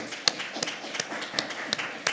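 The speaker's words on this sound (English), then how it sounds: "Can we please clap for Sister House?" Sparse, slow clapping from a small church audience at a Sunday service, about six separate claps at a fairly steady rhythm, close and moderately faint, with no talk over it.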